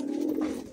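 A single short, low coo comes from a caged pigeon, close and alone.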